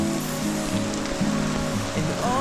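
Continuous rainfall from Tropical Storm Crising hisses steadily on surfaces in Quezon City, with a low rumbling background and some brief tonal squeaks mixed in; nobody speaks.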